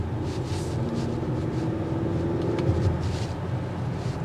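A 2024 Acura TLX driving, a steady low engine and road rumble heard from inside the cabin, even and moderately loud throughout with no talk.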